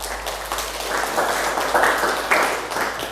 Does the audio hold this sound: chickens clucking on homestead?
no